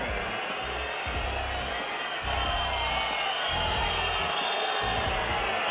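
A tennis crowd at a Barcelona 2022 match featuring Alcaraz reacts with a broad, sustained roar and scattered whoops that swell a little after two seconds, with a voice talking beneath.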